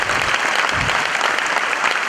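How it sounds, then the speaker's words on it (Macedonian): A studio audience claps loudly and continuously for a couple of seconds, a dense, even burst of applause with no talking over it. "Ајде, аплауз."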